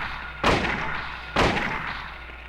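Two loud rifle shots about a second apart in the survival horror game Silent Hill, each a sharp boom with a ringing tail over a low game drone.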